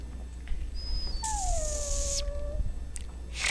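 Dog whimpering in Dragon Age: Origins, a long falling whine over game ambience, close and clear, with a few higher cries around it.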